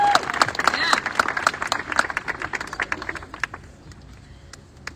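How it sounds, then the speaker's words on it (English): Applause from an audience at a community gathering in support of Israel, loud at first with scattered claps, then thinning and fading out over a few seconds while voices murmur underneath. "Give a round of applause."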